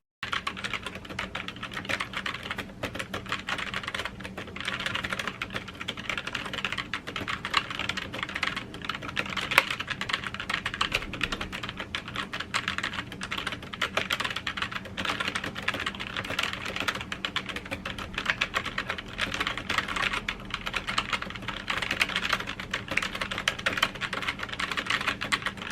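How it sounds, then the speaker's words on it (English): Steady, continuous typing on an Inland 208421 membrane keyboard without stabilizers, with soft, muffled keystrokes clattering in a fast, even rhythm throughout, with no voices. "here's what the keyboard sounds like"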